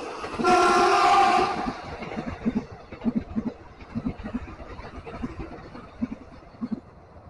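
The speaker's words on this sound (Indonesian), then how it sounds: "KRL lewat di depan kita" A train horn blares briefly, then an electric KRL commuter train rolls across a long bridge over the Bengawan Solo River with a steady, rhythmic clickety-clack of wheels over rail joints, fairly close.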